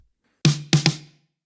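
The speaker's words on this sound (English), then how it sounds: "it's just a simple pattern on the snare." A snare drum plays a simple pattern, three sharp, close hits with the last two quickly paired, ringing briefly into silence.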